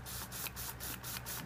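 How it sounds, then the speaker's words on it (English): A small hand pump sprayer hisses water onto boat sterndrive parts during corrosion cleanup, giving a soft, steady spray broken by short regular pauses, faint and close. "So all I have is one of these little pumps with water, and all I'm going to do is just rinse it down"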